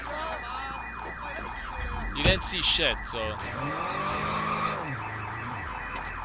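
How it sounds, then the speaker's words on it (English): A car alarm blares in the video game Sleeping Dogs, a loud, rapidly pulsing electronic whoop repeating steadily, with a crash and a squeal midway and someone talking over it. "Well, the alarm will go off in a second"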